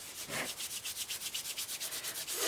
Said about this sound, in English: you can really firm it up by rolling it in the palm of your hand